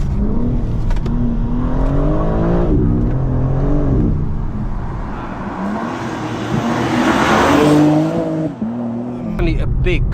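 A BMW M4 G82 Competition accelerates at full throttle, its engine rising in pitch through repeated gear changes, loud and close from inside the cabin, while someone talks over it.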